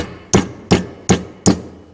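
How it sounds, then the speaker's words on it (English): Four sharp, evenly spaced hammer blows ring out as a strip of metal held in a bench vise is bent over to 90 degrees for a pair of spurs. "hammer that over at a 90 degree"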